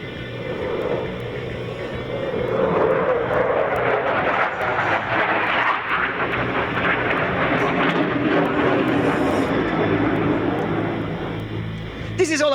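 A Eurofighter Typhoon flying a display at an air show roars steadily and loudly throughout, a broad continuous jet rumble that swells slightly as the aircraft manoeuvres, with a commentator's voice carried over it.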